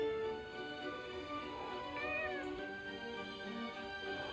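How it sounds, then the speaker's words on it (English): A cat in the fantasy action game Forspoken meows with a rising then falling cry in the middle of a steady game ambience, close and fairly clear, with no talking. "Is that a cat?"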